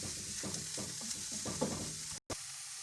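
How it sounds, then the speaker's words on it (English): Onions cook in a little oil with a soft, steady sizzle and several rhythmic stirring scrapes, close and fairly quiet, with a brief dropout near the end. "Let the onions cook until they're tender for 2 minutes."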